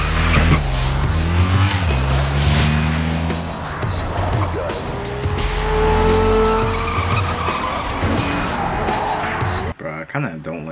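Tires screech and skid through a movie car chase in Romeo Must Die, engines roaring loudly over music and effects, with people talking over it before an abrupt cut near the end.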